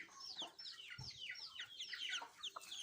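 Fighting cocks clucking in a series of short, bright, chirpy calls repeated steadily at close range, with a few low thumps underneath and no talk.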